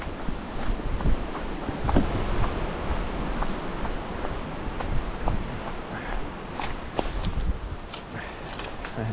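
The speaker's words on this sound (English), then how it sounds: "because that's a pretty strong wind" A strong spring wind roars steadily outdoors near wildflowers, a loud, continuous buffeting rush with a few faint thumps and rustles beneath it.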